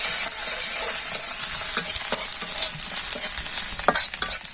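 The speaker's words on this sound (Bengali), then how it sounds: "ভালো করে কষে নিয়ে" Ground spices with salt, turmeric and chili powder sizzle and fry in a pan for a small-fish curry, with steady bright hiss and repeated scraping stirs throughout, close and fairly loud, no talking.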